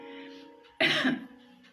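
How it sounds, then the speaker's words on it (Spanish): A single sharp cough from a speaker during a sermon bursts out close by after a faint background hum, then fades back to quiet. "Perdón por la tos"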